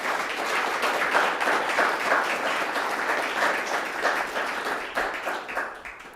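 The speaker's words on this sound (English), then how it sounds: "Can we give a round of applause to Angela?" A forum audience applauds a speaker with dense, steady clapping from many hands, loud and continuous, then thinning slightly toward the end.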